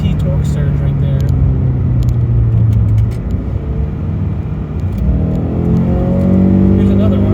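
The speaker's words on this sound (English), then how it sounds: "That's a CVT torque surge right there." Inside a Subaru with a CVT, the engine drones in a steady low rumble, then swells in pitch and loudness as the car surges forward under acceleration, with a voice talking over the noise.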